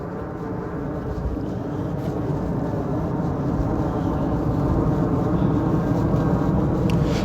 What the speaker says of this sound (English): hang on, let's let this plane go by.